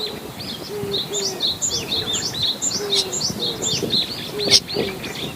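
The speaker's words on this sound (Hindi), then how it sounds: "और ये तो ऑस्ट्रेलियन तोता है" An Australian parrot calls repeatedly outdoors in a wadi near Madinah, giving bright, chirping notes in a steady series at moderate distance over a soft background hiss.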